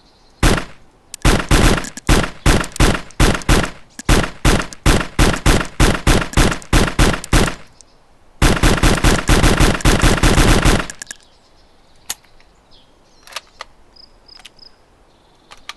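Gunshots in the video game DayZ, two long bursts of rapid, loud, close automatic fire separated by a short pause, then quiet ambient outdoor sound.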